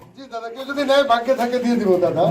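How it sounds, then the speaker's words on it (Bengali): A female pigeon coos close by, a rolling, throaty warble that rises and falls continuously for a couple of seconds. "এটা হচ্ছে মাদি কবুতর দেখুন"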